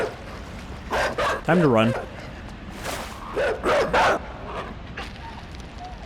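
A dog barks repeatedly in the game INSIDE, sharp yips and excited bow-wows in quick bursts, mixed with someone talking over them.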